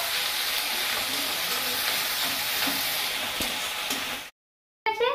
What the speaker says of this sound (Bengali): এবার পেস্ট করা মশলাটাকে দিয়ে দেবো। ভালো করে কষিয়ে নেবো।